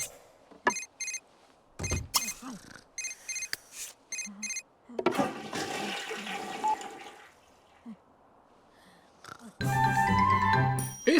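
A toilet flushes in The Sims 3, a bright rushing swell of water near the end, after scattered game chimes and short effect sounds with gaps of quiet.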